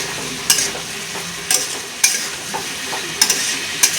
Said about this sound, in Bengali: খুলে দিয়ে একটু নাড়াচাড়া করব,